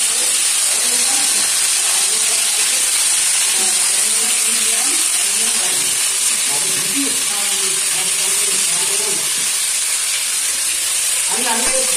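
Cauliflower dropped into hot oil at home, giving a loud, continuous sizzle and hiss close by, with faint kitchen clatter underneath.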